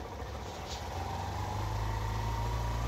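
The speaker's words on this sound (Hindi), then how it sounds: "मेन स्टैंड पे खड़ा करके बाइक को स्टार्ट करते हैं" A Hero Glamour Xtec 125 motorcycle runs on its main stand after its third service, a steady engine hum that rises and thickens partway through, then holds a continuous low drone close by with no talking.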